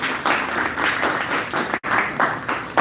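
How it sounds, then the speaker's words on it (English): Audience clapping for a debate team on one nation, one election, a dense burst of applause with a short sharp break midway before resuming. "Please clap for Romeo team"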